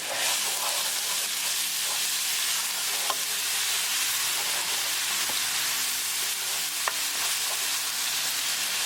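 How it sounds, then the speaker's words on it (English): Onion, ginger and garlic paste is stirred in a hot pan for a paneer dish, giving a steady close sizzle and frying hiss with occasional soft clinks of a spoon. "Now add, this is the paste we prepared: onion, ginger and garlic paste. So mix it well."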